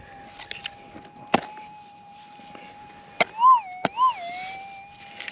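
Out in the Arizona desert, a Minelab SDC 2300 metal detector holds a steady threshold tone that twice rises into a warbling signal, with scattered clicks and knocks of handling around it.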